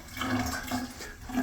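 Hotel shower with strong water pressure running steadily, a close, continuous hiss and splash of spraying water.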